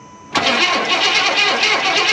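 A 1994 Chevrolet K1500 Blazer engine cranking on its first start in 18 years, the starter kicking in abruptly after a quiet moment and whirring loudly and close with a steady rhythmic churn.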